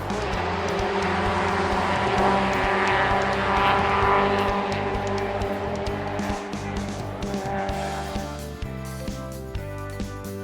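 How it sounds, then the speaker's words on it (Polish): A race car drives fast on a track, engine roaring steadily with tire squeal and shifting pitch, then fading into rougher, choppier passes toward the end. "To jest samochód wyścigowy. Ten pojazd jeździ bardzo szybko po torze wyścigowym."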